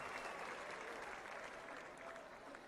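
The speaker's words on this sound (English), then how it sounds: "Let's give them an applause." Steady applause from a crowd at an LSU baseball national championship celebration after the 2025 NCAA College World Series final, a dense wash of clapping held at an even level throughout, fairly distant with no voices standing out.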